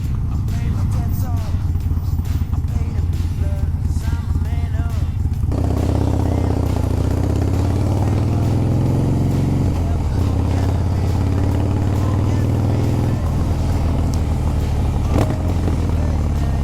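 Harley-Davidson Breakout motorcycle engine running in second gear around 2,600 rpm, a loud continuous rumbling throb that shifts character partway through, with someone talking over it.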